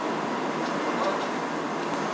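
Interior of a Taoyuan Airport express train while riding, a steady broadband rumble and hiss of the carriage running on the rails, continuous and fairly loud throughout with no clear voices.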